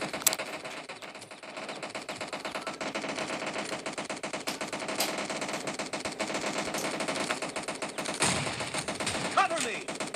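Rapid automatic gunfire from the battle royale game PUBG rattles on continuously and loudly through the whole stretch, with dense bursts and no talk over it.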